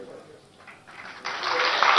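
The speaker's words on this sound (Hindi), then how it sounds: "तालियां जोरदार करतल ध्वनि से स्वागत करेंगे।" Rally crowd applauding at a political gathering. The clapping starts faint, then swells in two stages and turns loud and dense near the end.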